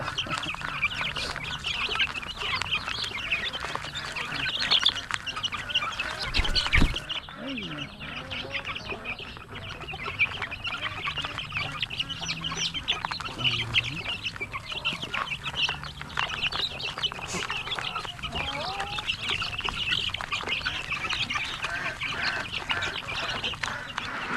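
Pet ducks quack and chatter continuously in a farmyard, close and fairly soft, joined by clucking fowl and brief voices in the background.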